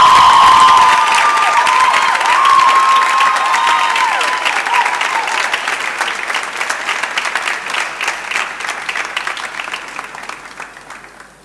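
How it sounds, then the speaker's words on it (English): Loud, enthusiastic audience applause at a school graduation and prize-giving ceremony, with cheering and children's shouts at first, then steady clapping that slowly fades out. "A round of applause for them, please."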